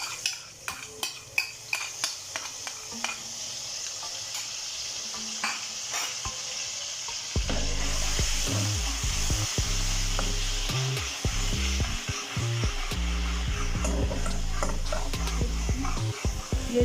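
Garlic dropped into a hot pan sizzles steadily while a spoon stirs it, with scraping clatters of metal on the pan, preparing a restaurant-style chicken shashlik with fried rice; faint knocks come first, then louder continuous frying and stirring.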